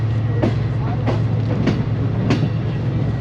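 Green Line passenger train rolling along the rails after departing Bahawalpur, heard from inside an economy coach: a steady low rumble with several sharp clacks of wheels over rail joints at uneven intervals.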